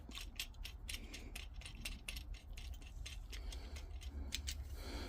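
Sharp metallic clicking and ratcheting, close by and in quick irregular bursts, as the top and side nuts on a Pridefend Glock sight pusher are loosened with a tool.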